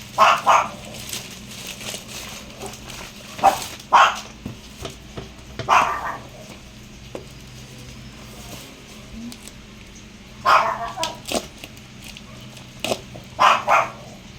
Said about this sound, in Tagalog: Choco, napakaingay talaga ni Choco.